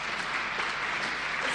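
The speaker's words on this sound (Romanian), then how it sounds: "Aplauze pentru Natalia Ghilașcu, Marin Turea și Stella Gemna." An audience at a human rights award gala in Moldova claps steadily, a thick, even wash of applause throughout.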